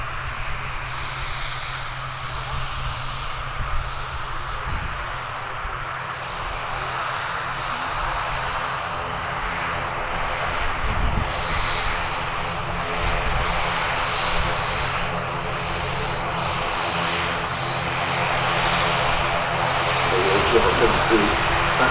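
A touring aircraft drones overhead at the Farnborough air show, a steady engine rumble that swells slightly over about twenty seconds and stays under a public address announcer's talk.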